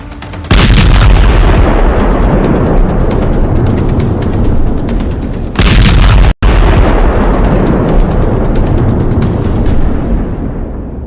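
Explosions from a Houthi attack in the Red Sea sound as a loud sustained roar of blasts and rumbling booms, with a sharp burst near the middle, a brief cutout, then continued rumbling that fades at the end.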